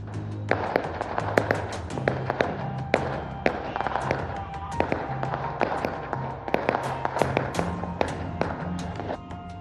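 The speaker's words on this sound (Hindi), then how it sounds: "लोगों ने रोशनी के त्योहार में जमकर आतिशबाजी की" Diwali firecrackers and fireworks burst in rapid, dense succession, sharp cracks and thuds overlapping nonstop at varying distances with a low rumbling background throughout.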